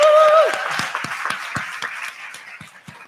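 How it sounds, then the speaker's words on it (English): Volunteers at a Kol Nidre High Holy Days service get a short burst of applause from the congregation. A brief tone fades at the start, and scattered claps thin out over three seconds. "have a round of applause for all of those volunteers?"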